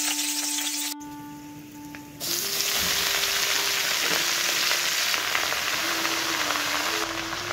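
Garlic and chili sizzling and frying in hot cooking oil for a radish-leaf dish, a steady crackling hiss close up with a brief quieter stretch before the loud frying resumes, alongside a faint tonal hum.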